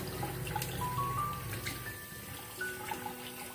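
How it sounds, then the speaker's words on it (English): Running water rinses a bar of handmade soap, a soft, close splashing and dripping stream with a few brief bright tones near the start and end, no voices. "Let me rinse that off."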